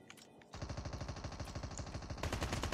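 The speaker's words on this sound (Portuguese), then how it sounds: "Tem muito tiro no cara lá na frente." Rapid automatic gunfire from a Call of Duty Mobile match hammers out a steady fast rhythm after a short quiet start, growing louder and denser toward the end.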